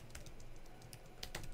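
Quick bursts of typing on a computer keyboard while programming, close and fairly quiet, with a few sharper key clicks near the end.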